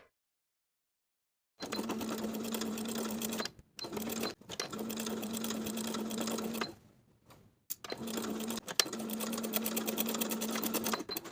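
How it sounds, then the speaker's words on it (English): A sewing machine stitches in the ditch from the right side of a linen shorts waistband, running in several steady bursts with brief pauses between them, close and clear with no talking. "Stitch in the ditch from the right side."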